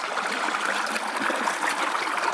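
Steady, close trickling and gurgling of a stream flowing beneath a huge rock on a Pennsylvania ridge, a continuous bright wash of water with no voices.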